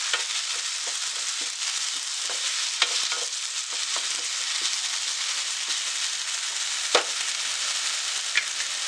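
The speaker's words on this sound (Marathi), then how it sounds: "हे छान मिक्स करून घेऊया." Chicken being stirred in a pan with a coconut and coriander paste, a steady soft sizzle with scattered scraping and clinking strokes, a couple of sharper knocks standing out, close and moderately quiet, no voices.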